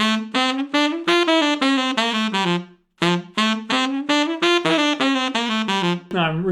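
Two phrases of detached reed notes, tongued with the back of the tongue for an articulation lesson, are separated by a brief pause and then a short breathy tail; close and full, with no voice present.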